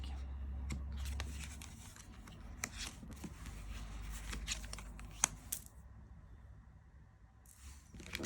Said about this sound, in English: it's a bit awkward getting the cards out